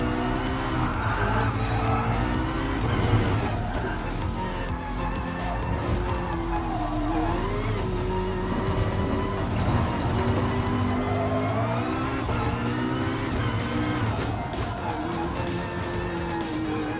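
Race cars in Gran Turismo Sport, including BMW and Nissan Vision GT machines, with a continuous engine whine rising and falling through gear changes and tires squealing through corners, loud and unbroken.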